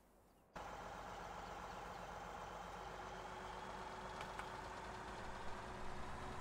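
Combine harvester engine in Farming Simulator 17 starting up after a brief quiet moment, then running steadily with a loud, even drone and faint tonal hum throughout.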